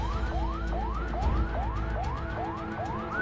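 An ambulance siren wails in a repeating rising sweep, about eight cycles in quick succession, loud and steady over road and traffic rumble as the vehicle pushes through traffic near an airport police station.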